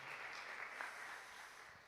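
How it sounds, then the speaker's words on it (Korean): A congregation at a Korean church youth worship service applauds the worship team with a continuous, even wash of many hands clapping, heard faint and somewhat distant across the room. "찬양팀 위해서 격려와 응원의 박수 한번 크게 한번 부탁드리겠습니다"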